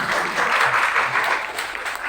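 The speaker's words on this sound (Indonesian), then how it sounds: "Tepuk tangan ya." Steady applause from a classroom audience after a group presentation in a teacher-training lesson, a dense, even clatter of many hands clapping for about two seconds without voices.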